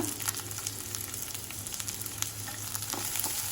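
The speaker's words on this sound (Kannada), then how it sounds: "ಈರುಳ್ಳಿ ಫ್ರೈ ಆಗ್ತಿದ್ದಾಗೆ ತೆಳ್ಳಗೆ ಹೆಚ್ಚಿಟ್ಕೊಂಡಿರುವಂತಹ ಕ್ಯಾಬೇಜನ್ನು ಹಾಕ್ಕೊಳ್ತೇನೆ ಸ್ವಲ್ಪ" Onion and thinly sliced cabbage fry in a pan for a Gobi Manchurian dish, giving a steady close sizzle with soft scattered crackles and a low hum beneath, no voices.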